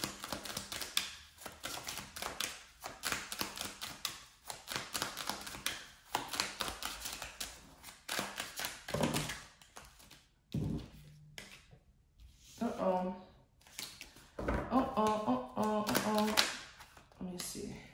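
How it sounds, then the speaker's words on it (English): Tarot cards being shuffled in quick repeated bursts of soft taps and riffles, close by, with a voice speaking in between. "let me shuffle better"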